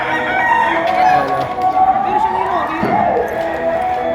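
Roosters crow and cluck close by amid a busy crowd at a chicken market in Padre Garcia, Batangas, with voices murmuring in the background.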